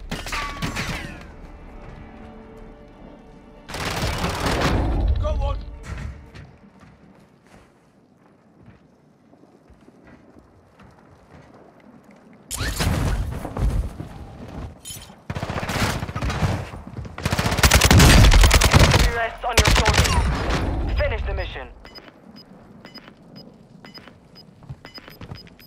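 Automatic gunfire in the Warzone 2.0 video game comes in several dense bursts separated by quieter gaps, loud and close with wind-like rushing noise.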